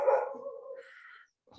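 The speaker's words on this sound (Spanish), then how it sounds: "los perros de la casa de Laura me escuchan y empiezan a ladrar" Dogs at a nearby house bark, one fairly loud yelp followed by a fainter, drawn-out whine and a brief trailing yip, heard on their own without talk.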